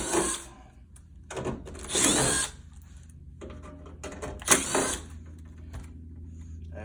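Screws are backed out and a metal plate is removed from an Amana PTAC air conditioner unit, with bursts of power-driver whirring and metallic handling noise that rise and fall over steady low room hum.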